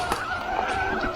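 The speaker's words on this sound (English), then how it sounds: "Oh my god, I need to brake in the corner." A Turbo Levo SL electric mountain bike brakes hard into a corner on a forest trail at Bukit Kiara, giving a brief tonal squeal and skidding hiss, close and steady over the short moment.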